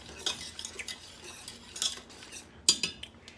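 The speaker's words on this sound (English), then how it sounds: "So we're going to continue to stir." Utensil stirring shrimp and crab bisque as it thickens in a pot over medium heat, with soft scraping and clinks against the pot and one sharper metallic clatter near the end, close by with no talk.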